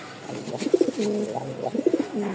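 Pigeons from a loft of Rajshahi high-flying and racer breeds coo nearby in two clear rounds of soft, throaty, rolling calls with a short gap between them, over a faint background hum.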